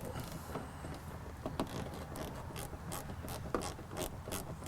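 A ratchet snugs bolts on a Bushwacker fender flare, a rapid run of close, crisp pawl clicks in short bursts over steady background noise.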